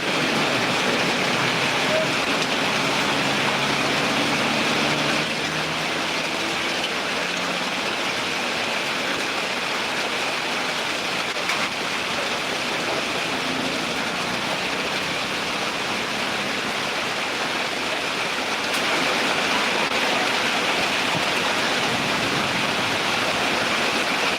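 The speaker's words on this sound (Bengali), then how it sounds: "এই বৃষ্টির রিমিজিং শব্দ, আমি একটি টিনের ঘরে আছি এবং টিনের শব্দটা আপনাদের কাছে নিশ্চয় ভালো লাগছে" Heavy storm rain drums on the tin roof of a house in Sylhet, a dense, constant roar that stays loud and unbroken throughout, with no voices over it.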